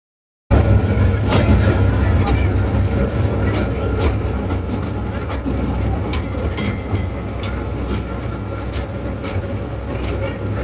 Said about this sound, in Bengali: এটা হচ্ছে ট্রেন রাইড